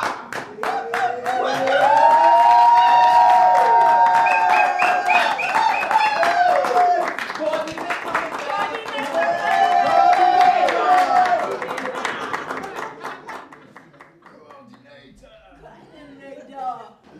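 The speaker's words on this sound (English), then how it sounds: "Come here, clap for Babusha!" An audience claps and chuckles for Babusha at a training session on national issues, with scattered applause mixed with loud talk and laughter that fades toward the end.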